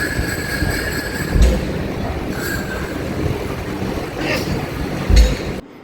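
A Vande Bharat express train slowing to a halt at Rampurhat station, with steady rail rumble and wheel noise, brief squeals and clunks of the carriages, and faint chime-like tones throughout.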